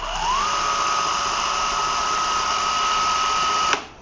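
A Ryobi R18PF cordless power file with a freshly fitted belt runs steadily on its own: a loud, even motor whine that ramps up over the first half second, holds constant and then cuts off abruptly near the end.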